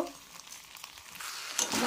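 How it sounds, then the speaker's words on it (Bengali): Spice masala for chilli chicken fries and is stirred in a pan, a close, continuous sizzle that grows louder toward the end. "ভালো করে নাড়ব।"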